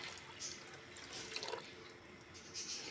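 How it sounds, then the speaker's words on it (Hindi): Water poured into a karahi of daal being cooked with leftover chicken, a soft continuous splashing and trickling that stays fairly even for about three seconds, with small surges, close by and without talk. "इसमें हम डाल देंगे अपना पानी"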